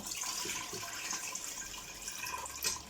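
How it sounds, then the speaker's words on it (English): Water from soaked rice being drained while cooking akhni, a steady hissing pour with a brief louder splash near the end, moderately close and without talk. "I'll drain the water in here."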